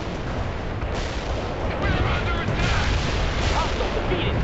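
Mortars fire in the World in Conflict strategy game, a loud, dense barrage of booming impacts and rumbling explosions rolling on continuously, with the battle din swelling midway through.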